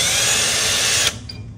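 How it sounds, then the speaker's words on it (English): A power drill pre-drills a hole for a small-boat poling platform, whining loud and steady for about a second before cutting off, leaving a quiet tail. "So now you're just gonna do your pre-drill."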